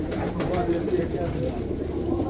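Pigeons coo in a crowded pigeon market in Al-Adhamiya, Baghdad: steady low cooing runs through a dense bed of crowd murmur and nearby voices.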